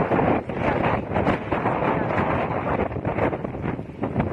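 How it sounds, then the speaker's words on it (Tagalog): Strong wind buffets the microphone in a loud, continuous roar that gusts up and down, with faint voices underneath. "Hala, grabe ang hangin."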